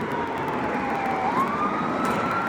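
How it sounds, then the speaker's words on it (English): An emergency vehicle siren wails in the distance, its tone rising and falling over steady New York City traffic and road noise in the rain. "And I hear some sirens."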